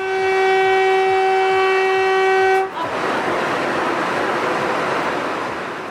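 A semi high speed train on the Ahmedabad–Mumbai route sounds a long, loud steady horn blast, then cuts to a rushing roar of the train passing close by, sustained and broadband with no talk.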